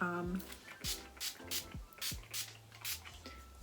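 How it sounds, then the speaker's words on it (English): Rose water is sprayed onto thick, type 4 natural hair gathered in a ponytail: a few short, hissing spray bursts in a quick rhythm, close and fairly soft, while someone talks between and over them. "I'm gonna spray some rose water,"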